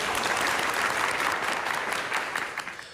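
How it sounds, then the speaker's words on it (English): Steady applause from an audience at the NAMM 2026 music trade show, dense clapping throughout that tapers slightly toward the end. "Everyone, give him a round of applause,"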